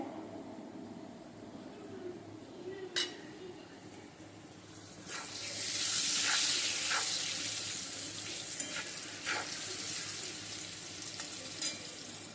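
Potatoes frying in oil, a steady sizzle that swells louder midway, with occasional stirring scrapes and no talking.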